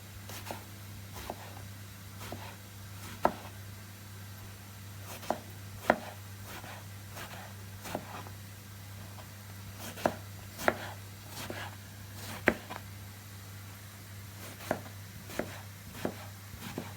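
A knife chops steadily on a board, sharp close knocks at an even, unhurried pace, over a low background hum with no talking.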